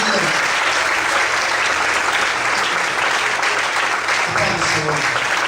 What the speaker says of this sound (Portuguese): Desocupa a sua mão e aplauda ao Senhor.